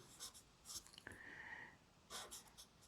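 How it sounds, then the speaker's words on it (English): A pen scratching an answer by hand on paper during a maths lesson on differentiation, a few short faint strokes in a quiet room with a breath or sniff between them. "I'm just going to write for my answer to A"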